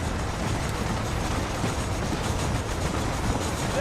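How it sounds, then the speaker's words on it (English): A train in Red Dead Redemption rumbles past as a steady, dense rolling clatter, loud and close with no let-up for its few seconds. "There is a train."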